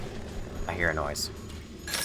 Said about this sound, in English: I hear a special item noise